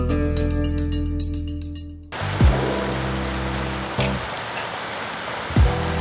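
Heavy rain pours down as a steady, loud hiss after a sudden cut from music, with a few sharp knocks or thuds breaking through the downpour.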